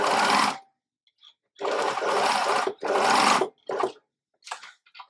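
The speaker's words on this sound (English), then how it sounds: "I'm just sewing close to the edge, so about 3 millimeters from the edge" A sewing machine stitches binding onto fabric close to the edge in four short, loud bursts of whirring motor with brief pauses between, plus a couple of quicker stops near the end.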